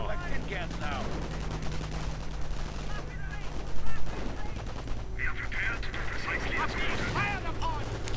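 Video-game battle in which a StuG 42 assault gun fires repeatedly amid dense gunfire and explosions, a continuous barrage with bursts and a loud blast near the middle, under a steady engine rumble.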